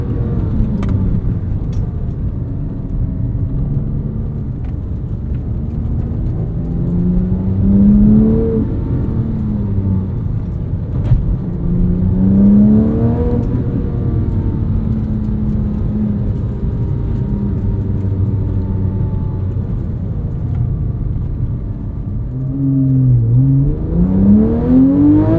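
A 997.1 Porsche 911 GT3 with a Mezger engine revs and accelerates through several gears on a canyon road, loud and close, with rising and falling whine, no talking.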